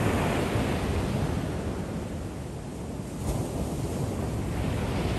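Open-sea surf at a beach in Macaé on the Rio de Janeiro coast makes a steady, loud wash of breaking waves, heavily mixed with wind rumbling on the microphone, with no voices.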